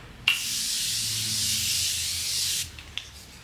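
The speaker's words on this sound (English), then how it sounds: "this is my all-time favorite setting spray of all time" A long, close hissing spray from an aerosol can of makeup setting spray lasts a couple of seconds, with a click at the start and small taps after.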